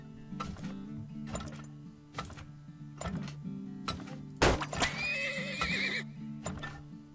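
Horse neighing repeatedly in the oil-drilling video game Turmoil, several whinnies over a steady looping game tune with hoof clip-clops, one louder burst near the middle followed by a longer whinny.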